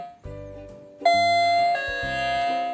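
An electric doorbell triggered from the main door panel of a two-storey building chimes a two-tone ding-dong, ringing clearly and close with resonant tones, followed by a lingering second chime.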